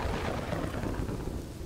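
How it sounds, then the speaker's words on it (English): Thunder rumbles over steady rain during a lightning storm in the city-building video game Kingdoms and Castles, a dense continuous wash of rainfall with low booming undertones and no voices. "We're in the middle of a lightning storm."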